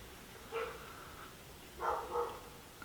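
An obnoxious dog barks in a few short bursts, two separate outbursts some distance off, against a quiet room with no talking.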